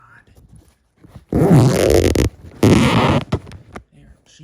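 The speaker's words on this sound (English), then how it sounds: "Zipper's kind of a little bit of a pain." Zipper on the bag compartment of a Bissell ProLite vacuum cleaner, two long loud rasping pulls with a few short rattles around them, close by, with a brief spoken exclamation.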